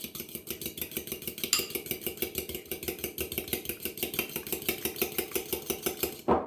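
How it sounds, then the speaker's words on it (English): Two eggs whisked in a bowl with a utensil, a fast, steady rhythmic clatter of rapid strokes repeating close up for several seconds, then a brief louder knock at the end. "crack open your 2 eggs and then just give them a little whisk"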